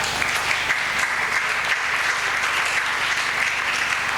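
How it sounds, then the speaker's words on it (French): Loud, dense applause from a church congregation fills the whole stretch, steady and unbroken, with no voices standing out. "Nous acclamons très fort."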